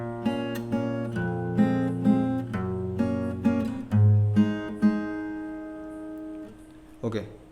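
Fingerstyle guitar plays a passage of a song, with clear plucked bass and treble notes ringing in a slow, steady pattern, followed by a brief pause and a couple of closing notes.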